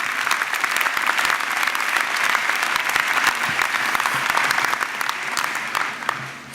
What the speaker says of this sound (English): These gentlemen deserve a round of applause.